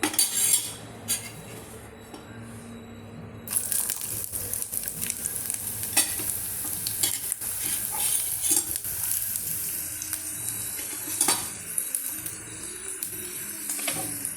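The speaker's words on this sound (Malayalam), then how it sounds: "ഇഞ്ചി നമുക്കൊന്ന് വറുത്തെടുക്കാം" Ginger frying in hot oil in a pan gives a continuous crackling sizzle, with frequent metal utensil scrapes and clinks from stirring over it and no talking.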